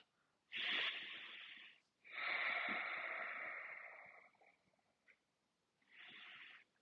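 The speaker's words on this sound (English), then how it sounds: "Now let's do that Ujjayi breathing, which is just through our nose, restrained like we're fogging up a mirror." Ujjayi yoga breathing through the nose with a restrained, throaty hiss, close and clear: a short breath, a longer drawn breath of about two seconds, then another brief breath after a pause.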